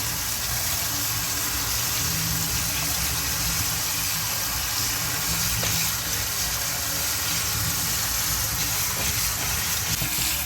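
Broccoli is washed under running tap water, a steady, fairly loud gush that continues throughout without a break or any talking.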